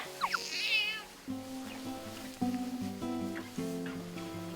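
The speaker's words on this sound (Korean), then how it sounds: "바로 오늘의 주인공 뚱한 표정이 매력적인 고양이 뚱입니다" A rescued stray cat meows several times, close and clear, with a few drawn-out, wavering cries in a quiet room.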